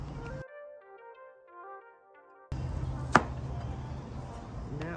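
Knife slicing vegetables on a cutting board for a vegan chipotle cheese steak: a short musical tone passage gives way to kitchen room noise with one crisp, close chop and a fainter cut near the end.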